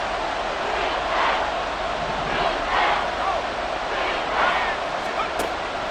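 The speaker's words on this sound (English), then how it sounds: "This crowd turning up the decibel level." Stadium crowd noise from the Madden NFL 24 video game gives a dense, steady roar with swelling surges, heard loud and continuous with announcer commentary over it.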